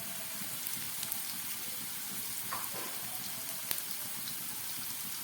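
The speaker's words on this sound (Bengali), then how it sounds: "গ্যাসটাকে মিডিয়ামে করে আমি খুব ভালো করে আলুটাকে ভাজা করে দিচ্ছি।" Potatoes frying in a pan on medium heat, a quiet, even sizzle with faint scattered pops, steady and uninterrupted with no voices.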